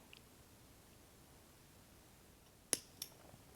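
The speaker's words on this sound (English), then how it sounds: "I'm just going to go ahead and I'm going to cut" A pair of crisp scissor snips trims the yarn tail off a crocheted drawstring eyeglasses pouch, two quick cuts close by in an otherwise quiet room.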